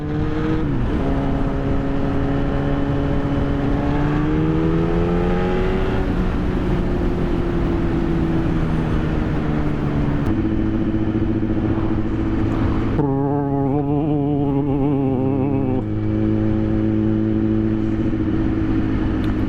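A steady Honda CB1000R motorcycle engine and exhaust drone throughout with shifting pitch as it revs up and settles, loud and close, with no voices over it.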